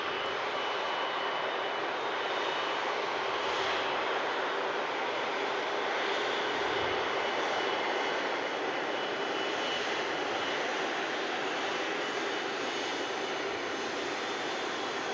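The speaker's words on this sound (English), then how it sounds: "Proper rumble here from the Rolls-Royce Trent 700s of the Virgin Airbus" Rolls-Royce Trent 700 engines on a Virgin Atlantic Airbus A330 at Manchester Airport give a loud, steady, broad roar that holds evenly throughout, with no voices.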